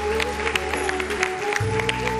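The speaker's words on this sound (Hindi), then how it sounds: "भरपूर और ज़ोरदार तालियों में हम वेलकम करेंगे" A TV studio audience applauds to welcome a political guest on a televised Ramadan iftar show, with steady, fairly loud clapping mixed with background music throughout.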